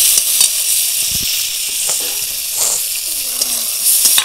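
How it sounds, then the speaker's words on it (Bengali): Chopped onions frying in oil with bay leaves and dried chilli, a steady close hiss and sizzle with a few light stirring knocks against the pan. "এবার দিয়ে দেবো পেঁয়াজ কুচি, সবকিছু ভালোভাবে ভেজে নেব"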